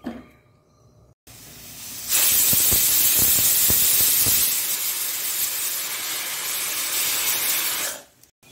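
A pressure cooker on the stove lets off a loud, sustained steam whistle and hiss that starts abruptly, with a few sharp clanks near the beginning as the weight rattles, then cuts off near the end; no one speaks.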